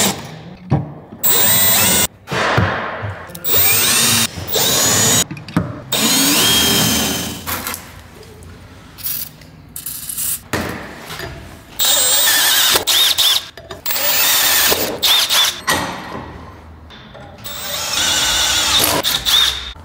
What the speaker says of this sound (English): A little drilling, don't hurt nobody.